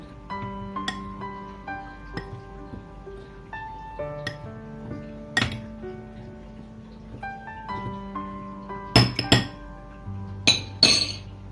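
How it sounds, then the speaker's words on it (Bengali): A spoon mixes dry malpua ingredients with crushed fennel in a bowl, giving a series of sharp, irregular metallic clinks and taps against the bowl. The sounds grow louder and busier toward the end. "এবার এই সমস্ত ড্রাই ইনগ্রেডিয়েন্টস গুলোকে আমি একটু মিশিয়ে নেব।"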